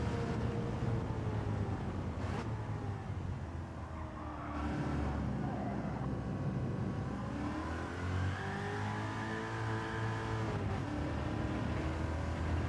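Race car engine in Gran Turismo 7 revving out through the gears, a steady mid-loud drone with rising and falling pitch sweeps and brief shifts, running continuously.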